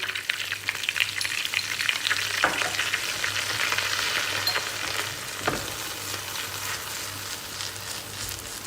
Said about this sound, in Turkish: Yağ eridi hemen içine bir tatlı kaşığı kırmızı toz biber döküyoruz.